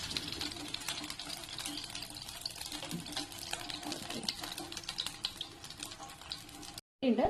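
Pearl spot fish (karimeen) shallow frying in a pan, giving a steady, dense crackling sizzle that runs without a break and cuts out briefly near the end.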